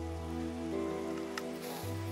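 Rain falls in the video game Minecraft as a steady, even hiss. It is joined by sustained tonal hums that shift pitch, with no speech.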